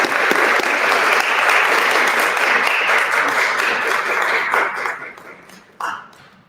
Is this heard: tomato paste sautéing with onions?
no